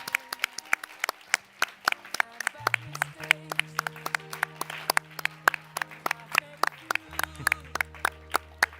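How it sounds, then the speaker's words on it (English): Audience applause and clapping at a tech awards ceremony continue throughout, with sharp individual claps standing out over a low sustained musical drone. "please, again, big round of applause"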